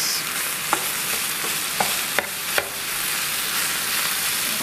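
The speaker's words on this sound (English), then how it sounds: "you just keep on cooking the rice" Java rice stir-fried in a pan: a continuous loud sizzle with a spatula scraping and tapping against the pan a few times, close and without any talking.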